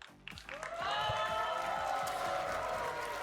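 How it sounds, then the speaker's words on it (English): An esports arena crowd at a Valorant Americas League match roars in sustained cheering and applause that swells and holds steady, loud and dense, with voices mixed into the noise. "you hear the crowd"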